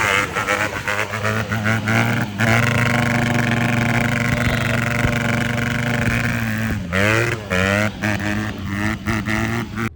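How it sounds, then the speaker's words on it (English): Honda 150 motorcycle engine held against its rev limiter, a loud, close, buzzing high-revving drone with a stuttering rhythm as the limiter cuts in, dipping briefly then climbing and bouncing off the limiter again, no voices. "The rev limiters just sound insane."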